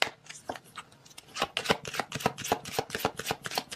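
A deck of oracle cards is shuffled in a rapid run of crisp, papery riffles and slaps, close and fairly loud, with no talking.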